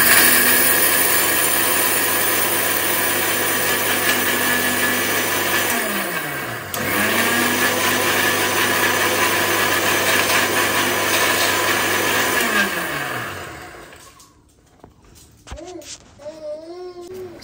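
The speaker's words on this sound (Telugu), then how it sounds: "అండ్ ఆలోపు మనమైతే మిక్సీ అయితే పడదాము" A kitchen mixer grinder with a glass jar whirs loudly, blending a cooled baby food mixture, running steadily for about twelve seconds before winding down, with a short dip midway, then quiet kitchen sounds follow.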